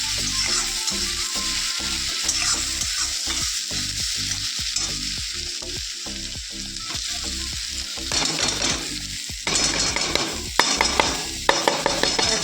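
Fish jhal cooks in a pan with a loud, continuous sizzle of frying and rhythmic stirring scrapes throughout, close and busy, growing more clattery toward the end, with no one talking.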